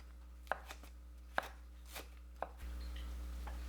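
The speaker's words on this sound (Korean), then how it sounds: "파는 반 가르고 쫑쫑 썰어줍니다." A knife chopping green onion on a cutting board, four or five sharp knocks spaced unevenly, close and distinct over a low steady hum.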